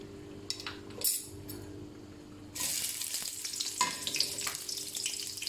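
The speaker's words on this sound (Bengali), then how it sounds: "আমার কড়াইটা গরম হয়ে গেছে, কিছু তেল দিয়ে নিলাম। দিয়ে দিব কিছু পেঁয়াজ" Onions drop into hot oil in a wok, setting off a steady sizzle that fills the foreground after a few quiet clinks, with no talk.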